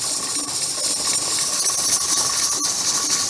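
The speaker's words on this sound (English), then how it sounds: "see the way it's jiggling so much there, it's actually letting a lot of steam" A steady hiss of escaping steam with a faint rapid rattling as a pressure canner's weight jiggles on a gas stove while canning beef and vegetables, loud and continuous.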